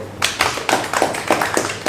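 Scattered hand clapping at a press event for a Harley-Davidson club's volunteer aid, a handful of distinct, fairly close claps in an uneven rhythm, sounding like a small group rather than a full crowd.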